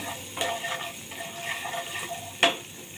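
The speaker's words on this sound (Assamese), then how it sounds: "আদা নহৰুখিনি মই ধুনীয়াকৈ ভুনি ল'ম।" Ginger-garlic paste frying in a pan, a continuous close sizzle with occasional stirring scrapes and a sharp clack of a spoon against metal near the end, no voices over it.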